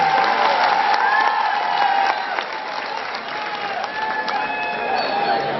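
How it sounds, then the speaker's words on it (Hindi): A Jain poetry-gathering audience applauds loudly in a steady, sustained burst of dense clapping, with a voice or tones ringing faintly over it. "एक बार इस बालक को आशीर्वाद स्वरूप तालियां प्रदान करें"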